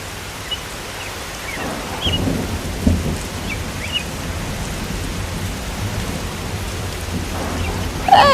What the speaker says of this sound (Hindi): ऊपर से ये आंधी और तूफान